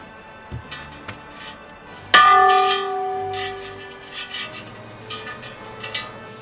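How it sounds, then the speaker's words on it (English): A bell in the top tower of Sherwood Castle is struck once, a loud metallic clang that rings and hums as it slowly fades, with scattered knocks and taps before the strike and faint clatter after it. "in the top tower of Sherwood Castle, complete with ringable bell."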